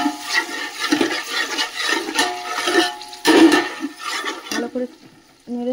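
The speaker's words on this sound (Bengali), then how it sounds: "টক দইটা এর মধ্যে তেলের মধ্যে নাড়বো।" Yogurt is stirred into hot ghee and oil in a pan, with wet sizzling and scraping from the stirring coming in uneven bursts and a brief lull near the end.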